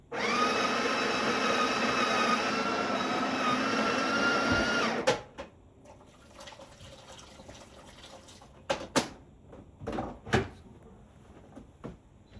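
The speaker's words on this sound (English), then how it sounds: "Now the machine has remembered how long to grind for." Breville Barista Touch Impress BES881 grinding coffee beans, a loud steady whirring grind for about five seconds that stops abruptly, followed by scattered clicks and knocks of handling the machine.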